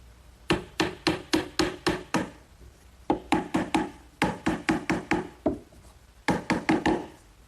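4-penny finish nails are hammered into a wooden sandbox frame in quick bursts of five to seven close, crisp blows, separated by short pauses.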